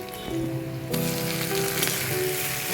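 Chopped tomato with Kashmiri chili powder frying in hot oil, a loud steady sizzle that jumps sharply as the tomato goes in and keeps crackling without talk.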